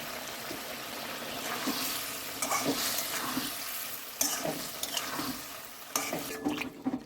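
Sole fish dropped piece by piece into a boiling spicy gravy in a pan, giving a steady close sizzle and bubbling with several soft splashes and scrapes, no talk.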